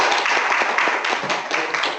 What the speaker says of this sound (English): Let's give Dr. Cooke a round of applause